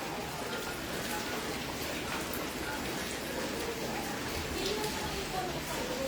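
Steady rain falls continuously during Typhoon Crising flooding in Montalban, Rizal: a dense hiss of drops on surfaces with occasional louder splats, nearby and unbroken throughout.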